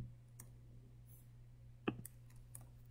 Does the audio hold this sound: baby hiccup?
no